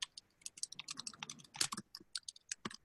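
Quick, irregular clicking of keys on a computer keyboard, close and fairly quiet, with short bursts and brief pauses and no talking.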